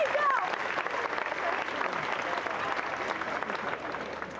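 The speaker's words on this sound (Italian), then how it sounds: "Proviamo un applauso tipo lo spettacolo mi sta piacendo" A cabaret crowd at an outdoor seaside show in Vieste claps on cue, a loud, dense burst of applause that holds steady and tapers slightly, with a voice faintly audible at the start.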